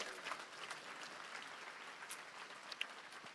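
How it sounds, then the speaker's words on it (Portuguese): A church congregation applauding during a Portuguese-language sermon, a steady, fairly quiet wash of many hands clapping that holds evenly throughout with no talking over it. "Você pode aplaudir o Senhor nesse lugar,"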